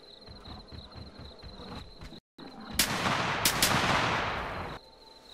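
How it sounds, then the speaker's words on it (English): Rifle fire aimed at a wolf while hunting in The Hunter Classic, a rapid volley of loud, close shots packed together after a short silence, over a steady backdrop of insect and cricket chirping. "I did not need all those shots"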